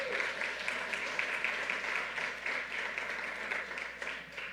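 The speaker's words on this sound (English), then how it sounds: "let's give her a round of applause" An audience applauding a mayor at a political event, a fairly quiet, even wash of clapping heard from a distance, continuing steadily.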